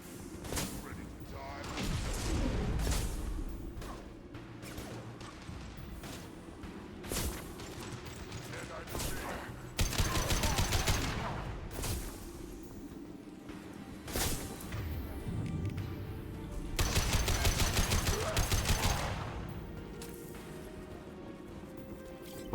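Repeated bursts of armor-piercing gunfire in the video game Mass Effect 2, with several loud volleys spread through the clip over game ambience while someone talks between shots.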